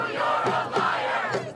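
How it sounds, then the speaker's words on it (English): An enraged crowd of protesters at a Netanyahu speech chants and shouts in loud, rhythmic bursts, many voices blending into a dense roar close by. "A crowd enraged."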